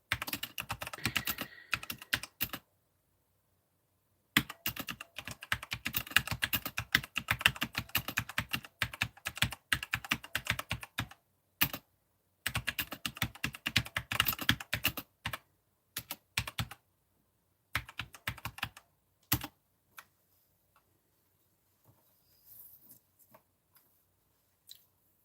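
Rapid clattering keystrokes on a computer keyboard come in dense bursts separated by short pauses, close and fairly loud, thinning to a few scattered taps and near silence toward the end.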